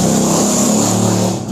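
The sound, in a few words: car passing outside the room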